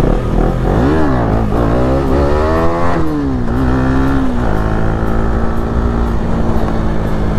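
A KTM Duke motorcycle on the move, its engine loud and close, revving up and down through several gear changes before settling into a steady, buzzing cruise.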